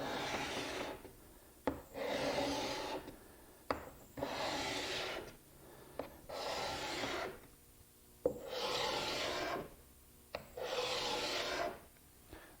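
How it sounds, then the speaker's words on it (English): Cabinet card scraper pushed across wood, six soft rasping strokes in a steady rhythm, each about a second long and separated by brief pauses with small clicks as the blade is reset. "Now you can also pull with the scraper, but you want to push it and curve it in this direction."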